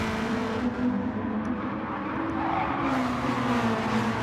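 A race car at Interlagos in a racing video game drones steadily at high revs, its engine note shifting pitch as the car slides wide and sideways, with no voices.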